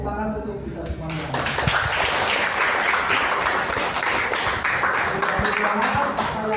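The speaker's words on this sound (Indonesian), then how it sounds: "Tepuk tangan untuk kita semuanya." A classroom full of students bursts into steady applause after a short spoken stretch at the start, the clapping dense and sustained to the end of the clip.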